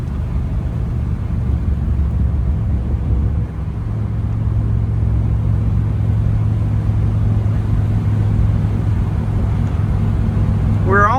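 A 1956 Ford Fairlane Sunliner convertible drives along steadily, its engine a continuous low rumble that stays loud and even throughout, with a brief shift in tone partway through.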